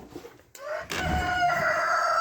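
Chickens cluck and a rooster lets out a loud crow that carries on steadily, close by in a backyard coop with no talking.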